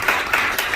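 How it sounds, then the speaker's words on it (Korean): A congregation claps in a brief burst at a prayer meeting, with a few distinct claps standing out close by. "박수 한번 쳐주세요."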